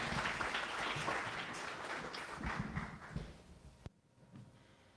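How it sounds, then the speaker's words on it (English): Applause for a California College of the Arts guest at a design talk: dense, steady clapping fills the room, thinning toward the end before cutting off abruptly near four seconds, leaving quiet room noise with a few faint sounds. "Let's give him a round of applause."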